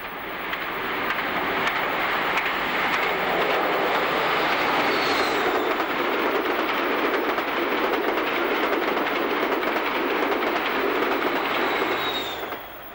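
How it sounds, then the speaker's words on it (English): Class 43 diesel HST power car 43152 accelerating through Camborne station with the 14:45 to Paddington, a loud, sustained engine roar and rolling rumble with faint high whistle, steady throughout and fading slightly at the end. "43152 accelerates through the station with the 1445 to Paddington."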